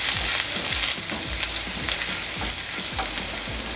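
Chopped ginger and garlic fry in hot oil with a constant bright sizzle, and a spoon scrapes and stirs the pan in repeated strokes at close range.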